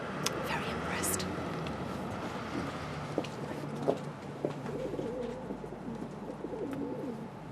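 Pigeons coo softly in a low, rounded murmur beneath a steady background of indoor chatter and room noise, the calls drifting in and out rather than standing clearly apart.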